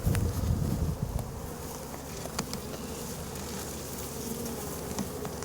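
A swarm of bees during a rescue makes a steady, dense buzzing hum close by. It is loudest at first, then settles into an even drone with no voices.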